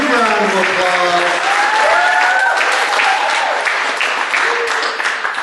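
Loud audience applause at a recognition banquet, a dense wash of clapping that starts at full strength and holds steady, with a few voices and whoops rising over it before it begins to thin.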